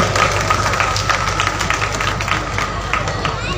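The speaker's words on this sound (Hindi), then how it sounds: "सौरभ गांगुली के लिए आप एक बार जोरदार ताली दीजिए।" A large outdoor Durga Puja festival crowd at Central Park gives Sourav Ganguly a sustained round of applause, dense continuous clapping mixed with crowd noise and babble, loud and steady throughout.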